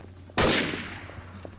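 A single loud gunshot bursts out in the Trouble in Terrorist Town video game, its sharp onset trailing off over about a second, with faint game noise around it and another shot beginning at the very end.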